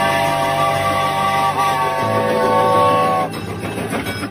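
A passenger train bound for Saharsa pulls into Mansi railway station in Bihar, 1981, sounding a long steady whistle over the rumble of wheels; the whistle cuts off and rattling, clattering rail noise carries on.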